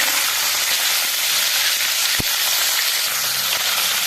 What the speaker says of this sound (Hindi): तो हमने पनीर को इसमें डाल देना है और अच्छे से फ्राई करना है।